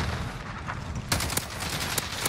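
Gunfire in Call of Duty: Modern Warfare multiplayer, a short burst of several sharp shots, the clearest ones in the second half, over steady battle din.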